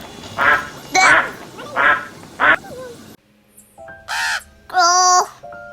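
Crow caws, probably a voice imitating the call, set in a sequence of children's bird names: a few separate harsh, drawn-out calls, close and fairly loud, with no other sound around them.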